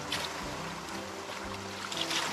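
A closed camping bowl holding water and sand is shaken hard, giving a continuous sloshing, rattling wash of water and grit at close range, with no talk.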